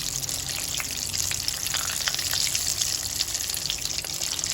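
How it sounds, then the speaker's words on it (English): Vada, a fried snack for vada pav, sizzles in hot oil with a loud, steady, close crackle and hiss throughout, with no talking. "Now we'll fry it on the another side."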